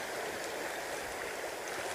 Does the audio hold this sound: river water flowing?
yes